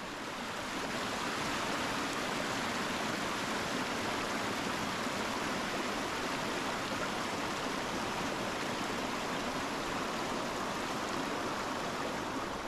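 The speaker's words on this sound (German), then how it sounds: "Der Silberbach ist gut gefüllt." Silberbach stream running full after rain, a steady close rush of flowing water that fills the whole clip without letup and with no voices.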